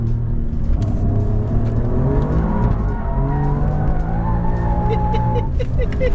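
An Alfa Romeo Giulia Quadrifoglio engine revs and climbs in pitch while driving, the loud, steady roar rising and falling with the throttle.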